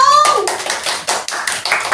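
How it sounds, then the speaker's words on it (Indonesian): Applause from an audience at a student entrepreneurship expo, a burst of many hands clapping that rises and holds for about two seconds, loud and close, with a brief tonal sound at the start. "Wow, keren banget, tepuk tangannya dong."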